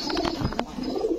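Pigeons at a pigeon market, among them jhak-gola males, giving soft cooing calls in a short, busy burst, close by and mixed with other birdsound, with no talk.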